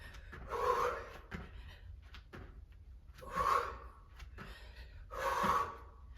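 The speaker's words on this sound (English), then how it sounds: "So you should have that heavy breathing going on." Heavy, rhythmic breathing during a sprint interval training workout, with three loud, breathy gasping exhales at even intervals over a quiet background.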